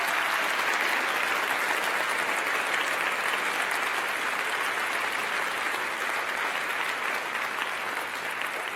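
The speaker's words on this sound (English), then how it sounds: "big round of applause." An audience at Yerba Buena Center for the Arts applauds in a dense, sustained wash of clapping that holds at a steady level for the full stretch, with no speech over it.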